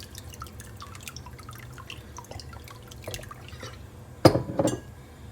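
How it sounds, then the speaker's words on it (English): Fish sauce is spooned into a dish for Lao fresh spring rolls with peanut dipping sauce, giving a brief liquid drip and splash with a light clink of the tablespoon near the end. It sounds close and short over a low background hum. "And 3 big tablespoons of fish sauce."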